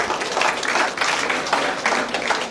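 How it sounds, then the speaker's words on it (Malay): Audience applause at a seminar, a dense, steady clatter of many hands clapping that carries on at an even level for the whole stretch, close and fairly loud. "Boleh tepukan kepada beliau, Encik Francisca dan Puan Tan Bising."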